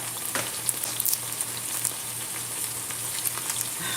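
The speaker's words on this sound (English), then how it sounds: "I just want it to saute up, fry up a little." Food sautés in a pan over turned-down heat in a home kitchen, giving a steady soft sizzle with small crackles over a low electrical hum.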